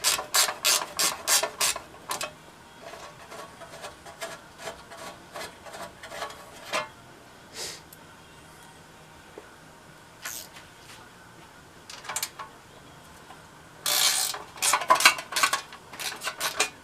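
A hand ratchet clicks in quick bursts of rapid pawl ticks while removing the shroud from an antique Briggs engine, with pauses and handling noises between bursts, close and fairly loud.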